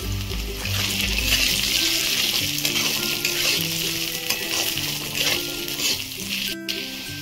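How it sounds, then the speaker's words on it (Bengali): Drained Gobindobhog rice sizzles and fries in a hot pan with ginger paste, loud and close, with scraping stir strokes breaking through the steady crackle. "চালটা দিয়ে আবারও ভালো করে ভেজে নেব।"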